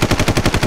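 A cannon in Worms Reloaded fires a rapid burst of loud, close blasts, about eight evenly spaced shots in well under a second, with no talk.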